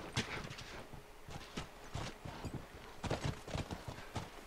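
Horses walk in The Last of Us video game, their hooves clip-clopping in uneven clusters of sharp, fairly close strikes with brief pauses between groups.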